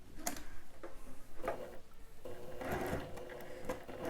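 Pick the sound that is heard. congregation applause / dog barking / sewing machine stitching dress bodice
sewing machine stitching dress bodice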